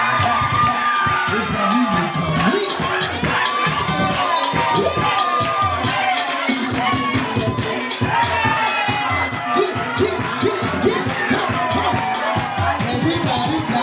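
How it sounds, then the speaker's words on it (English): A wedding crowd at a Haitian celebration cheers, shouts and whoops loudly and continuously, with clapping and excited babble throughout, close and dense. "Come on, clap your hands, come on, clap."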